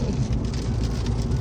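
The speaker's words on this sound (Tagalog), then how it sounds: "Ayan, umuulan na naman." Rain pours steadily on a car during a drive, a dense, even patter with the low hum of the road underneath and no talk over it.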